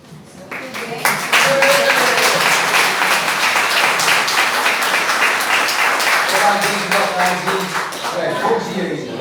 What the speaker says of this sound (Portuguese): Uma grande salva de palmas para a Zuleika, né?